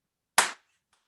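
A single sharp hand clap rings out alone, close and crisp, used to summon slaves to Cleopatra's throne, followed by a brief faint tap and quiet.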